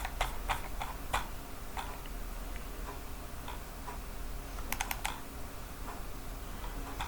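Clicky taps on a computer keyboard come in irregular bursts, single keystrokes and a quick cluster of repeated presses like backspacing, close up over a faint steady hum with no talking.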